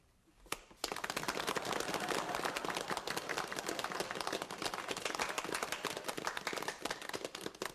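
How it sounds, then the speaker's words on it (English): A roomful of gentlemen at a hospital function launch into sudden, loud, sustained applause: thick, continuous clapping that swells in at once and holds steady without letting up, with no speech over it. "You applaud the sentiments expressed"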